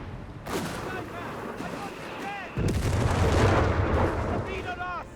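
Stuka rocket artillery firing in Company of Heroes 3, with booming launches and explosions swelling into a dense, sustained barrage that grows louder partway through, mixed with other battle noise and a voice talking over it.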